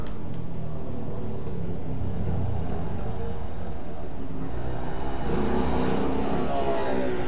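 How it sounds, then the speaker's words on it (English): Loud motorbike engines in the video game The Outer Worlds drone and rev steadily throughout, swelling louder near the end as a bike seems to draw close. "there's lots of bloody noisy motorbikes around here at the moment"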